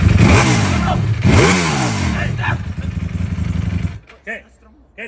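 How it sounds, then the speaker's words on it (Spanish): A new motorcycle revs loudly twice, its pitch sweeping up and down in rising and falling surges, then it drops to a lower idle and cuts off, followed by a brief spoken voice. "¿Os gusta mi nueva moto o qué?"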